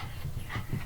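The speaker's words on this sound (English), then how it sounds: "Listen to them going nuts. They breathe. They whine. They are dog." Dogs in Donkey Kong Country panting and whining, a busy, steady mix of breathy puffs and low rumbling over about a second.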